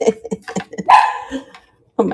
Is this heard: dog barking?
yes